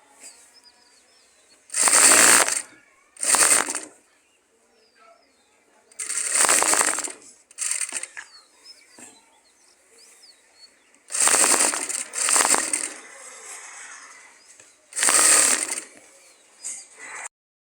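Sewing machine stitching a palazzo, running in several short loud bursts of a second or so each, separated by quiet pauses and soft handling sounds.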